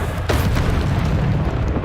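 A Bombarda spell explosion in a Harry Potter video game, a deep booming blast with a rumbling tail that stays loud and close for the whole moment.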